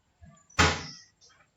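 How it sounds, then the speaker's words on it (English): A big wooden door moves with one short, rough scraping sweep that trails off within half a second, set between faint soft rustles in an otherwise quiet room. "I saw a big wooden door that sounded as I moved very slowly."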